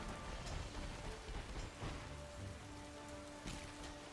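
Rain falls in the Pokemon Scarlet video game, a dense, continuous hiss of drops on surfaces with occasional louder patters, steady throughout and without voices.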